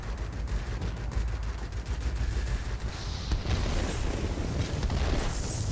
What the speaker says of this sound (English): Let's check out the rocket.